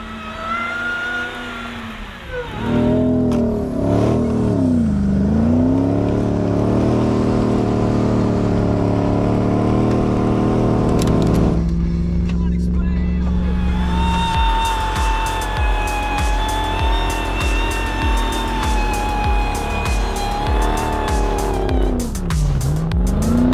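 A Hellcat-powered Jeep Gladiator roars loudly up a steep, deep-snow hill while rescuing a Ford truck, its engine revving hard in long sustained pulls with a sharp drop and dip in pitch partway through.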